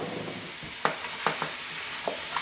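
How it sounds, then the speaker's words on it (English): Broccoli cooking in a pan with soy sauce, a soft steady sizzle broken by a few sharp clacks of a utensil stirring against the pan, close by. "we're going to let that broccoli cook nicely in there"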